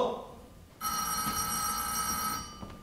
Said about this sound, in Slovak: To nie je telefon, to je zvonček pri dverách.